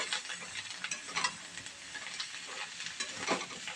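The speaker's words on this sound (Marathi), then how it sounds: "आता यामध्ये आपण बारीक चिरलेली कोथिंबीर घालूया आणि कोथिंबीरला यामध्ये हलवून घेऊया" Chopped coriander being stirred into a besan batter for kothimbir vadi, giving a soft, steady wet mixing and scraping sound with a few brighter swishes, close and alone.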